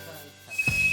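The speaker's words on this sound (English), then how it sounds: "OK, that's the fire alarm." A household fire alarm sounds in a home as a steady high-pitched electronic tone that starts partway through and holds on loudly to the end.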